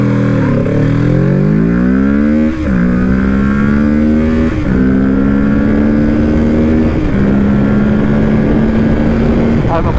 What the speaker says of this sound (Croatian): Krećemo prvo u ubrzanje.